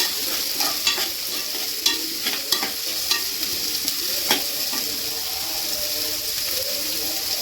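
Onions frying in a pan for hotel-style puri curry, a steady close sizzle punctuated by repeated clinks and scrapes of a stirring spoon, loud and without talk.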